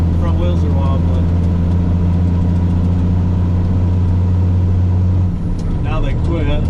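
Electronic truck engine running steadily with a loud low hum and a strong tonal drone throughout, settling slightly near the end, while a voice talks over it.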